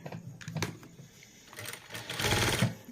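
Sewing machine stitching repeatedly over the same seam to attach a woven basket handle, with short close bursts of rapid mechanical clatter separated by pauses, the longest and loudest run near the end.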